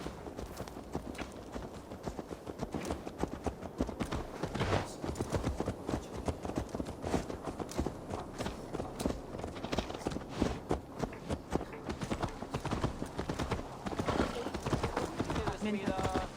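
Horse hooves clip-clop in a steady, brisk rhythm throughout in the video game Assassin's Creed Valhalla, with voices talking over the hoofbeats.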